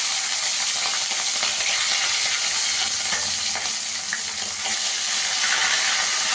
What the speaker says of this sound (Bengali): তেলটা ভালো করে গরম হয়ে গেছে। এবার মাছগুলোকে ভেজে নেবো।